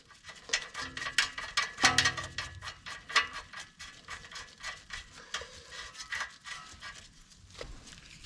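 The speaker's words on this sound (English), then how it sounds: "Put our lower nut on." A ratchet tightens the lower ball joint nut on a Honda Accord 2.4 during a passenger-side axle replacement, giving irregular short runs of close mechanical clicks and clacks with brief pauses.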